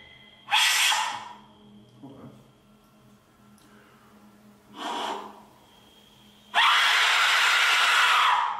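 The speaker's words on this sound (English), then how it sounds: "now it's time for a scream with an Aztec whistle" Harsh, piercing scream-like blasts from an Aztec death whistle come in bursts, two short ones and then a long loud one, with quiet breathy gaps between.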